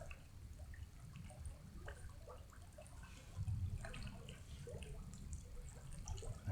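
Faint background water trickles and drips near a fire at night, a soft, low continuous wash with scattered small drip sounds and no voices.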